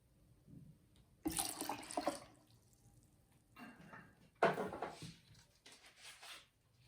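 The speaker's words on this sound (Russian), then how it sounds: "Затем наливаю туда же 2 стакана воды." Two glasses of water are poured into a blender bowl holding whole grain. Two quiet, separate splashing pours follow each other in a near, otherwise hushed kitchen.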